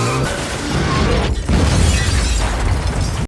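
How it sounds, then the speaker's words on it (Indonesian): Car crash and wreck in an action film, a loud crunching impact with shattering debris and booming bursts that continue densely for several seconds, no talk. "Mobil itu hancur"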